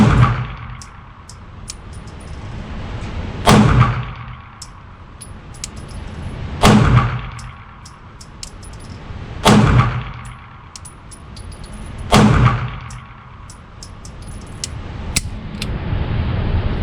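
Beretta 92G Elite LTT handgun firing about five single-action shots, spaced a few seconds apart, each a sharp loud crack with some ringing decay.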